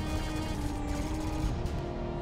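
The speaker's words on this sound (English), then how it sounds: "look at the rain of gunfire pouring down on their fleet" Heavy sustained gunfire and rumbling bombardment from a space fleet battle in the strategy game Endless Space Disharmony, a dense continuous roar with crackling bursts, loud and alone.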